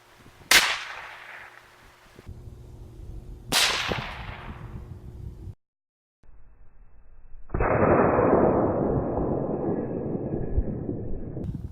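Two sharp .22 Long Rifle shots from a Ruger 10/22 rifle, each a loud crack with a quick decaying tail, about three seconds apart, followed by a steady broadband rush of noise.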